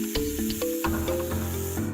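A snake standing with its hood raised hisses steadily for about two seconds, a continuous breathy hiss layered over sustained tonal background sounds.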